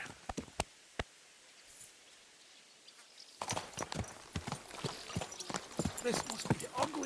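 Horse hooves clip-clopping in Kingdom Come: Deliverance II, a few sparse hoofbeats at first, then a busy run of close, crisp clops over louder ambience, with a voice speaking.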